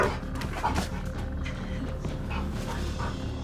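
A dog barks and growls in a rough, throaty way, close and loud over a busy, noisy background.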